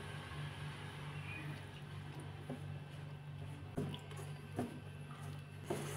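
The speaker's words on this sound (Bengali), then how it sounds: "এই সবজি জলটা দিয়ে এবার ময়দাটা মেখে নেব" Flour dough for vegetable momos being kneaded by hand with salted vegetable water, giving soft, steady squishing and a few wet slaps, close and fairly quiet, with no one talking.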